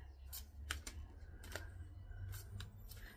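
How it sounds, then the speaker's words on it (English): A deck of playing cards being shuffled by hand, quiet crisp riffles and clicking card flicks in short bursts, close and faint. "So let's shuffle up the deck, okay?"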